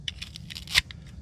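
Scissors snip through hair wound around a Roomba robot vacuum's brush, a quick run of light close-up cuts ending in one louder snip.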